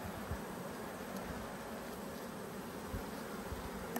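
Honey bees buzz around a yard of beehives, a faint, continuous hum of many insects with occasional closer passes, heard alone outdoors.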